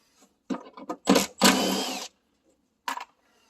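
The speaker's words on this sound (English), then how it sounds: "So I'm gonna remove the 3 bolts." A power tool removes three bolts from the front wiper linkage of a 2013–2018 Hyundai Santa Fe. It sounds as several short, whirring bursts followed by a longer run, then one final brief burst, close and fairly loud, with no talking.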